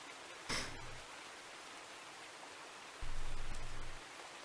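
Ambient rain from a computer background loop makes a soft, steady hiss throughout, with two brief louder bursts of noise breaking in. No one speaks over it.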